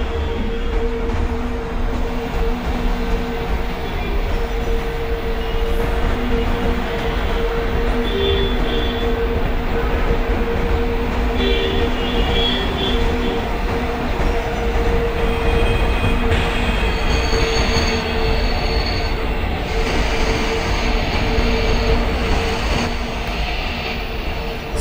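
A passenger train runs steadily in the MSTS train simulator game, with a continuous rumbling of wheels and engine, a constant hum, and occasional higher squeals and tones, loud and unbroken throughout.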